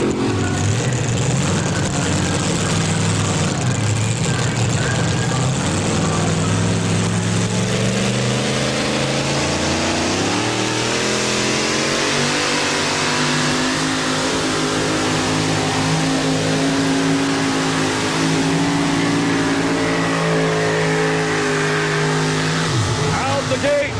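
A 1990 Dodge Dakota pulling truck with a 640 cubic inch Keith Black engine revs loud and close, its pitch sweeping up and down in sustained roars, with an announcer talking over it at an outdoor truck pulling event.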